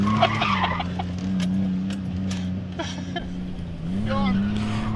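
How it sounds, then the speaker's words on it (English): A car drifts on a skid pad, its engine droning steadily with pitch swings while the tires squeal and scrub, heard from inside under excited voices talking. "Those were some real skids."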